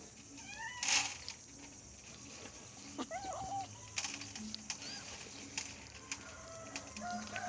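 Kittens eating an iguana give repeated high, wavering meows, some close and some farther off, with scattered short clucking bird calls from nearby fowl throughout.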